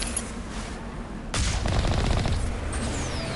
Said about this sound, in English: Oh, we got turrets.